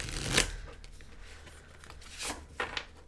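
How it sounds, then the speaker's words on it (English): Tarot cards shuffled by hand in a quick, messy burst, with a sharp riffle at the start and a few softer card flutters afterward, close and fairly quiet. "Ooh, that was a really messy shuffle."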